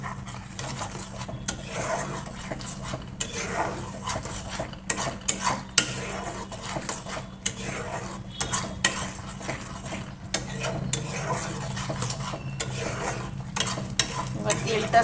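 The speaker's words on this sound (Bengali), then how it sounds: "হলুদ আর লঙ্কার গুঁড়ো দিয়ে দিয়েছি দিয়ে মশলাটা কষবো" Masala with chili and turmeric powder sizzles while a spoon scrapes and stirs it in a pan, with constant sizzling and repeated metallic scrapes and clinks over about fifteen seconds.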